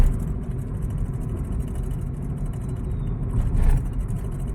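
Vehicles speed past along a small village road, with a continuous loud engine and road roar and a brief swell as one passes close.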